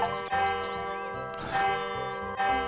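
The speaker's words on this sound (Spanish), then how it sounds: "Hemos hecho replicar la campana." A church bell tolls inside the video game Monster Boy and the Cursed Kingdom, ringing twice with long resonant decay over a steady game music backdrop, each strike bright and clear.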